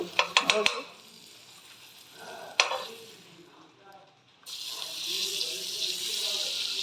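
Bread omelette cooking in butter in a pan: a few sharp clicks, a stretch of quiet with a voice in the background, then a steady, fairly loud sizzle for the final seconds.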